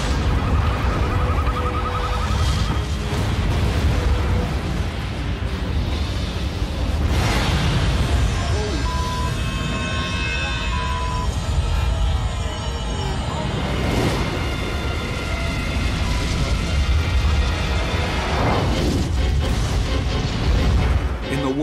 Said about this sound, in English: Tank after tank is exploding.